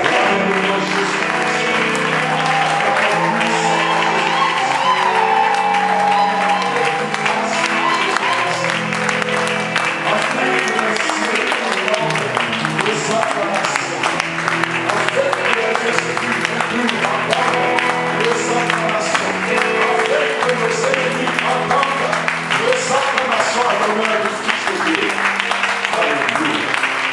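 A church congregation applauds Jesus Christ during a sermon, with sustained dense clapping and crowd noise throughout, loud and close, steady for nearly half a minute.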